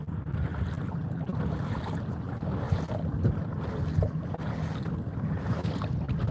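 A motorized fishing kayak cruising on open water at low speed, a steady rushing wash of water and wind noise buffeting the microphone continuously, no voices.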